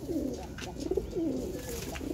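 A small flock of about twenty Heeralal pigeons gives repeated low, rolling coos, close and fairly loud against a steady background hum.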